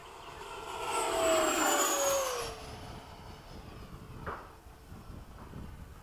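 An FMS 80mm Hawk RC jet flies past with a loud, rising-then-falling whine and turbine-like howl that swells and fades over a few seconds, leaving a fainter engine drone in the background.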